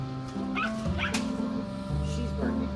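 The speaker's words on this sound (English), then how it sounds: "Yep, she's barking at the camera that's moving." A dog barks in short yips and whimpers at a moving camera indoors, the sounds repeating over a steady low hum with some background voice.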